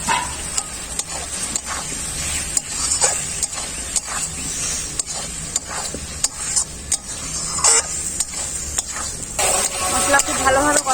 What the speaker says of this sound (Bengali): এরপর ভেজে রাখা আলুগুলো দিয়ে দেবো।